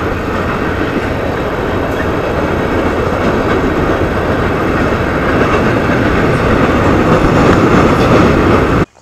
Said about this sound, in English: The train has gone by.